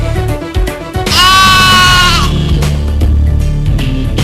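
A goat gives one loud, drawn-out bleat lasting about a second, quavering and nasal, up close over a busy, dense background of other sounds.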